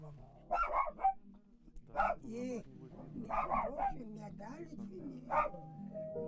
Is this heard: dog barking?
yes